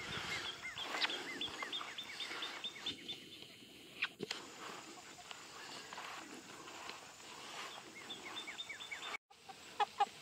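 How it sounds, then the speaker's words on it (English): Half-game, half-big-stock hens in a backyard chicken tractor cluck and chatter in steady bursts at moderate distance over soft outdoor background noise, with no one talking. "All the hens in this tractor are half game, half big stock."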